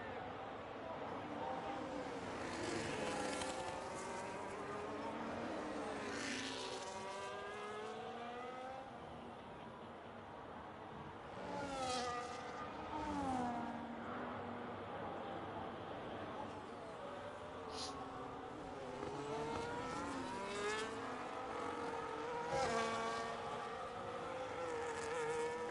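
An onboard race car engine from a racing video game screams through repeated rising and falling gear shifts during a push lap at the Brazil round, with faint commentary running underneath.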